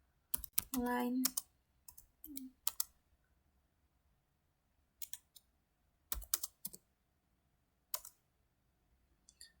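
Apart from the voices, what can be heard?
typing on a computer keyboard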